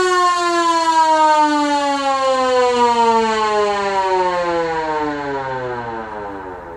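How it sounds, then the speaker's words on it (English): A push-button-activated siren wired into a vehicle gives a loud, steady wailing tone that slowly falls in pitch over several seconds, close and alone with no talking. "Then my push button to activate the siren is behind this radio button."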